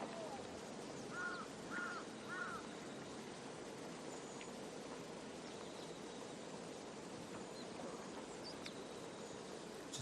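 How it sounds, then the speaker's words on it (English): A crow caws three times in quick succession near a golf course during a women's professional tournament, the calls fairly clear over a steady wash of outdoor background noise. "Definitely a crow who's enjoying the, well, the action here."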